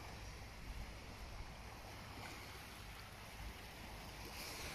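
Faint sea waves wash steadily at a beachfront pool villa in Hua Hin, with a soft, continuous surf and breezy rumble and no voices.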